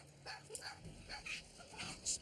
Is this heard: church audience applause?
no